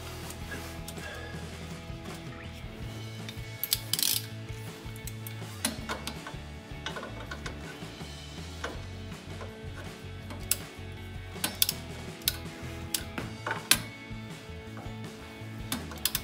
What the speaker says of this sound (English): So we'll go ahead and torque those down.